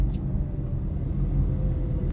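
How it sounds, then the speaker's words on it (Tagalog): Road traffic rumbles outside a Honda Brio, heard from within the cabin as a continuous low, muffled drone at moderate loudness with no voices. "Yan yung sinasabing traffic."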